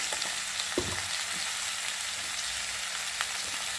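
A spice paste of turmeric, ginger-cumin paste and coriander powder fries with a soft, even sizzle in a pan, with a few faint stirring knocks and no voices.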